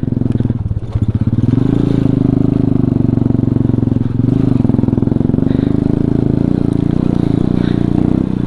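A loud off-road vehicle engine labouring in second gear up a steep, rough track at Baboon Top in Pakistan, droning steadily and close, with faint clattering over the strained, continuous roar.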